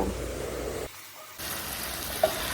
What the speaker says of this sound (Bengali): এরপর ম্যারিনেট করা মাংসটা দিয়ে দেব